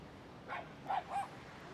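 A dog barks three times at a distance, short sharp yaps spread over under two seconds, faint against outdoor background noise at an oceanfront yoga session.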